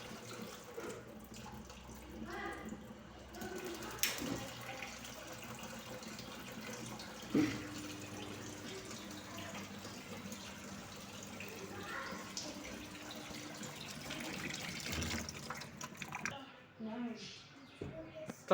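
Hot water runs from a tap fed by a repaired Daikou gas water heater, a steady close splashing stream into a sink that goes on throughout with brief clatters, while a voice speaks quietly over it in places.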